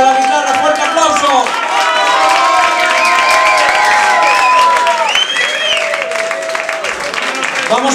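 A bar audience greets Fabio, a guitarist opening a guitar solo contest, with loud applause mixed with whooping cheers, whistles and shouted voices rising and falling throughout.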